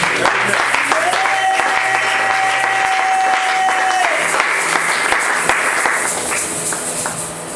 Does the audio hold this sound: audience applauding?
yes